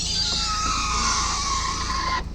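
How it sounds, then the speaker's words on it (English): Power window motor in a 2011 BMW X3 xDrive20d, running as a steady, strained whine for about two seconds before cutting off abruptly. "Finally, power windows."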